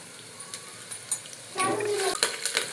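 Peanuts and cumin seeds hitting hot oil in a pan for Maharashtrian masale bhat, a soft background hiss that swells into a louder, crackling sizzle partway through, with a few clinks of a spoon.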